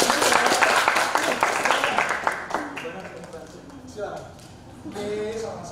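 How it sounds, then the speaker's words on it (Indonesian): Audience in a school student council training session clapping, a dense burst of applause that tapers off over the first few seconds, followed by a voice speaking. "Oke, tepuk tangan dulu dong."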